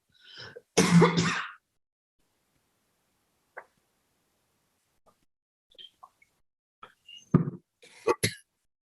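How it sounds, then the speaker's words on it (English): A single rough cough near the start, followed by quiet with a few faint clicks and small mouth noises, then a brief breathy throat sound at the end. "Sorry for the cough."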